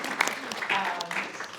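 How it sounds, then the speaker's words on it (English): An audience at a panel event on the history of antisemitism in Michigan claps warmly for a co-sponsor's executive director. The brief burst of hand-clapping carries a voice faintly underneath. "Gets her own applause."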